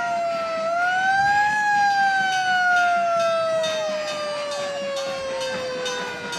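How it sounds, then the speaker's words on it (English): A fire engine siren wails in a harvest fair parade, a loud steady tone rising then slowly falling close by, with a faint horn-like blast near the end and no talk over it. "Oh, the fire engine."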